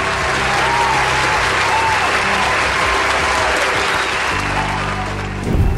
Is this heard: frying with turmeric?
no